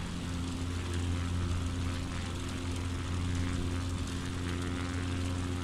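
A propeller bush plane takes off in Microsoft Flight Simulator 2020, its engine droning in a steady, loud, unbroken roar with a low hum beneath.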